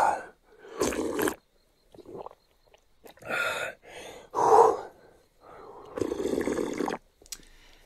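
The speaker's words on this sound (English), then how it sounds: "That sound is distinctive of a large quantity of fluid being swallowed." A large gulp of water swallowed down in one go, close and fairly loud, among breaths and mouth noises with short pauses between them.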